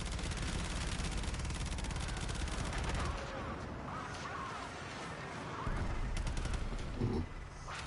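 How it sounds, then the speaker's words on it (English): Rapid, continuous ship gunfire in the Warframe Railjack space game, a loud dense rattle of shots running almost unbroken across the stretch with game effects layered over it and faint talk. "Sorry, I'm not even looking at the ship when I'm shooting."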